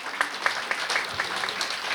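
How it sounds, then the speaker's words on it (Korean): Church congregation clapping at a pastor's installation thanksgiving service, a steady wash of many hands with a few sharper claps poking out, moderately loud and continuous with no talk over it. "박수 다시 쳐주시기 바랍니다."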